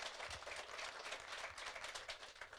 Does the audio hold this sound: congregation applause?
yes